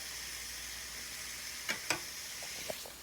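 Peppers and onions fry in a skillet with a faint, steady sizzle, broken by a few soft clinks and scrapes from stirring.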